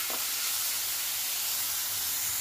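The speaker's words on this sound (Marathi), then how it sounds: "थोडासा कढीपत्ता टाकूया आणि कांदा छान सोनेरी रंगापर्यंत भाजून घ्यायचा।" Finely chopped onion frying with curry leaves in a pan, a steady close sizzle and hiss throughout with no talking.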